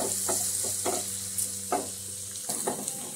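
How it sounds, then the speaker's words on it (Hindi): Chopped green chili, ginger and garlic fry in hot oil for palak paneer, a soft continuous sizzle broken by several sharp spoon scrapes and stirs against the pan. "इन सभी चीजों को तेल में हम डाल देंगे। फिर उसको हम थोड़ी देर के लिए भूनेंगे।"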